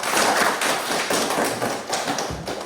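Classroom hands clapping during a group singing exercise, a sustained patter of many quick overlapping claps at moderate loudness, continuous throughout with no voices over it.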